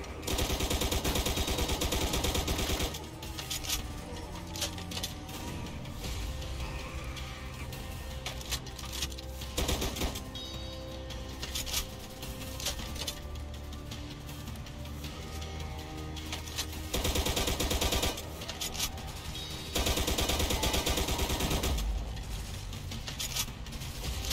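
Rapid automatic assault rifle fire in a zombie-style video game with a mystery box weapon, loud and near, in sustained bursts that pause and resume over dense game noise and music.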